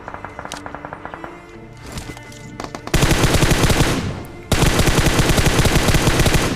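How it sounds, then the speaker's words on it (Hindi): Automatic gunfire rattles through a mobile battle royale shooter game: a string of lighter rapid shots, then two loud, sustained machine-gun bursts separated by a brief gap. No one speaks. "अब इतनी देर में लेफ्ट साइड से एक बंदा अंधाधुंध फायरिंग करे जा रहा होता है।"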